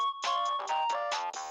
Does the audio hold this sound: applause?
no